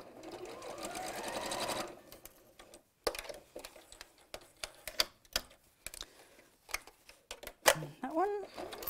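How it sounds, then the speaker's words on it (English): A sewing machine stitches fabric pieces to secure bag handles within the seam allowance, with a steady whirring run followed by short bursts of stitching and clicks, while someone talks. "I'm just going to sew those two pieces just within the seam allowance to secure the handles there."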